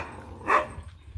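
A single short dog bark, fairly close, rising out of a low rumbling outdoor background.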